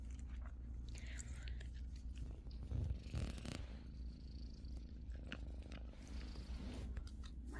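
A cat purrs close up in a steady low rumble, with small chewing or licking clicks over it, and a human voice briefly mutters nearby.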